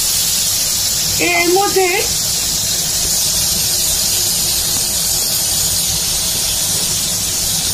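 Tomato pieces fry in a pan for a home-style creamy chicken curry, giving a steady, close hiss and sizzle through the whole stretch, with a brief bit of talk early on.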